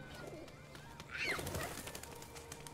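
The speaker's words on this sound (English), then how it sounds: "Pigeon." In the video game Detroit: Become Human, a pigeon gives a single soft coo that rises faintly out of a steady hiss of background ambience.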